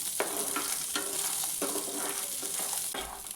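Green chillies sautéing in a hot pan sizzle steadily while a spoon stirs them, giving several quick scraping strokes at a loose, uneven rhythm, close and fairly quiet.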